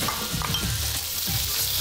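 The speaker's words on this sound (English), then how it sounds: "Fry the onion until the moisture evaporates" Sliced onion frying in sunflower oil with whole spices such as bay leaf and cinnamon stick, a steady, dense sizzle with light crackle, close and continuous, without talk.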